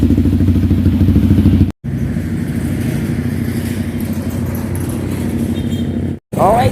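A Yamaha XSR 155 motorcycle fitted with an SC Project exhaust pipe runs loud and close with a steady throbbing engine note, broken by two brief silent gaps.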